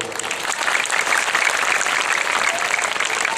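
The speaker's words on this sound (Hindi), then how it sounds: "अगर आप लोग ताली यहाँ बजा दे तो अच्छा होगा।" An audience at a devotional Urdu poetry gathering (naatiya mushaira) claps steadily, a dense, continuous round of applause from a crowd heard up close.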